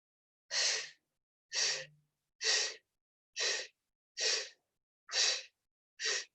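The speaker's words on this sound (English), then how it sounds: "Remember to breathe and elongate" Seven evenly spaced, close breaths puff out during a Pilates scissors mat exercise, each a short airy exhale-like burst separated by brief silences.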